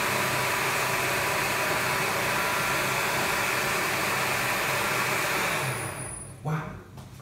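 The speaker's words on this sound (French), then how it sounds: "on entend bien le moteur" A pump motor in a microbrewery's CIP cleaning system runs with a steady, loud broadband whir, close by and without a break. It cuts off near the end, leaving a brief low thump and quieter residual noise.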